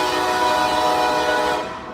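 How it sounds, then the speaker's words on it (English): A passing train roars loud and close, its horn sounding as a sustained tone over continuous rumbling and rail noise, easing slightly at the end. "Y'all heard the train?"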